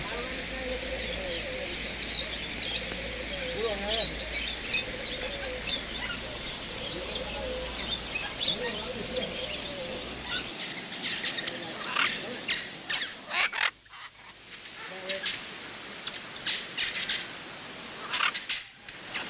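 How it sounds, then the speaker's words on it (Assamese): Scattered bird chirps and tweets ring out over the constant rushing hiss of falling water at Bhalukjuri waterfall near Kaziranga. "পানীত খিলখিলনি শব্দ চৰাই চিৰিকটি মাত"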